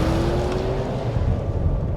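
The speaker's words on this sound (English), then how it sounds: "Cars on that dirt track sound like nothing else." Race cars on a dirt track, a dense, continuous engine roar with a rising whine at the start, loud and sustained without a break.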